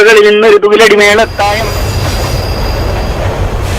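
A train rumbles past on the rails, loud and close, with rhythmic clatter after a brief horn-like tone at the start.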